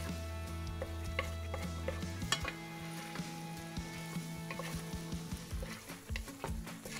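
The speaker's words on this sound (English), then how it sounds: "keep stirring that until you have a nice film on the bottom of your pan" Gluten-free choux dough stirred in a pan over low-medium heat, with repeated scraping and clicking strokes and a faint sizzle under a steady background hum.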